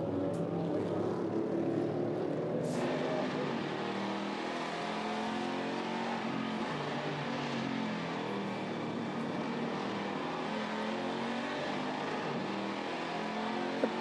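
Race cars at the Road America circuit in 2014, with a steady, loud engine roar that holds for the whole stretch as cars pass, plus a brief sharper note near the start and no talk.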